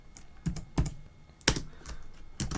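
Keys tapped on a computer keyboard, a handful of separate, sharp, close keystrokes spaced unevenly over a faint background, with no voices.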